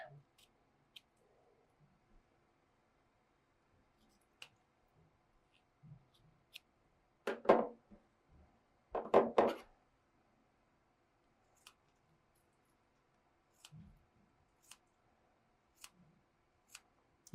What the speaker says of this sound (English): Going through 4 layers of flannel here. Hear how quick and easy those scissors are going through.